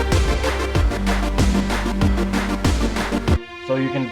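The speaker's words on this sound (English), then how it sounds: "So you can definitely hear the strings" Strings inside a hip-hop beat built in Logic, sustained tones layered under a loud, punchy drum pattern with a steady kick rhythm before the beat drops out near the end.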